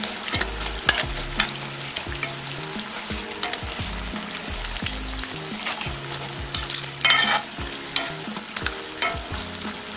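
Samosas fry in hot oil, giving a steady close sizzle with bubbling crackle and occasional stirring or turning sounds throughout, no voices.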